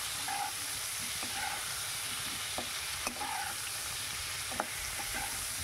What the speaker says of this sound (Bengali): আলু ফুলকপিটা ভালো করে একটু ভেজে নেব কিন্তু লাল লাল করে